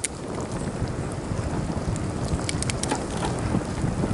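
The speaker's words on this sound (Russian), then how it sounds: "Идет легкий дождик." Steady light rain patters throughout, with scattered soft drops and a gentle wash of noise, no voices present.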